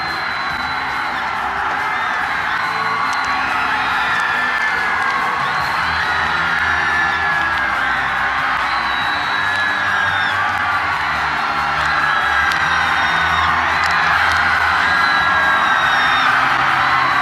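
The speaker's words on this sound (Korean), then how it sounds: "여러분 계속해서 큰 박수 부탁드립니다" A large outdoor crowd at an Armed Forces Day special forces demonstration of board breaking roars with sustained loud cheering and whooping, rising and falling shouts layered over a constant wall of crowd noise.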